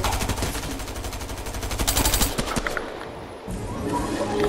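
Gunfire in a shooter video game: sustained rapid automatic bursts, loud and close, with dense overlapping shots throughout.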